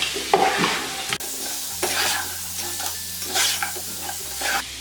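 Crushed green chillies stirred into rice masala for kabsa in a pan, a close, steady sizzle with brisk scraping and stirring and no voices.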